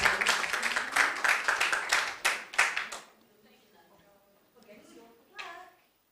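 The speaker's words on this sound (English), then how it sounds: "please give a round of applause for the excellent" An audience at a debate competition gives a team a round of applause, with close, loud clapping for about three seconds before it stops abruptly and quiet talk follows.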